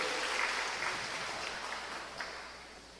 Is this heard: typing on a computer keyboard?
no